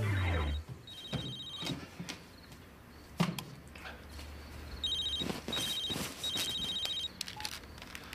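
A telephone rings late at night, its electronic trill sounding in several repeated bursts with pauses between, fairly close and clear, with some faint movement in the background and no talk.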